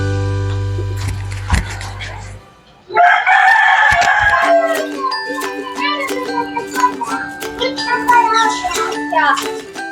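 Chicken near a bird cage holding parrots, with crowing and clucking close by, loud and busy with chirps from other birds, after an opening stretch of low rumble and talk.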